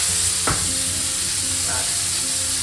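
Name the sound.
steak with butter sizzling in a cast iron pan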